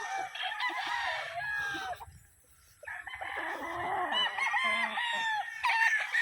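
Cockerels crow loudly and close by in drawn-out, wavering calls, with clucking in between and a brief lull partway through.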